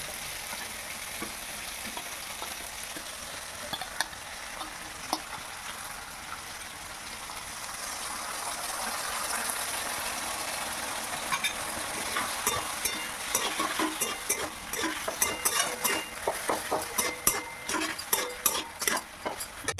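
Frying ginger-garlic paste with sauce poured in and stirred for a chilli fish dish, a steady sizzle that grows louder toward the end as spoon scrapes and clinks against the pan come in quicker, sharper bursts.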